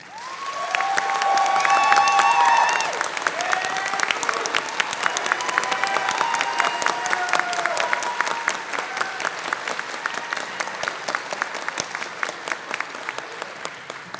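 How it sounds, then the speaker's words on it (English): At a community college commencement, graduates applaud staff and professors with a crowd's dense clapping and some cheers, swelling at first and then thinning into scattered claps. "Graduates, please take a moment to give the staff and your professors the"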